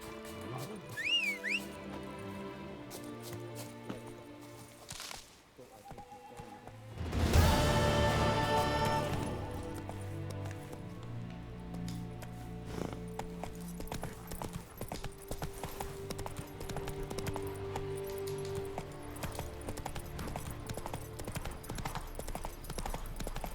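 Roach, Geralt's horse in The Witcher 3: Wild Hunt, gallops with steady rhythmic hoofbeats through most of the stretch, beneath a loud swell of game music and ambient effects with occasional whistling.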